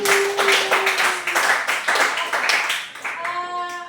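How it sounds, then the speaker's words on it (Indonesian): A classroom group claps together in short rhythmic bursts during a peer-teaching session, with a voice speaking over the clapping at the start and a sung tone near the end. "Lagi sekali lagi kita tepuk tangan untuk Sidi Gaji"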